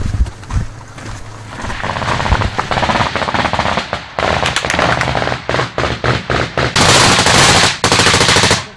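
Combat gunfire in Afghanistan, with loud, close bursts of automatic weapons fire and scattered single shots, building into rapid repeated volleys and sustained heavy firing.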